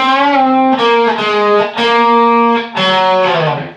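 A distorted electric guitar plays a short riff on the 4th string, sustained notes with pitch bends and a slide, loud and up front with no talking.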